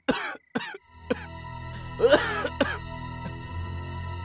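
A woman coughs in short harsh bursts at home in a drama scene, several separate coughs spaced out, close and fairly soft, over a low background hum.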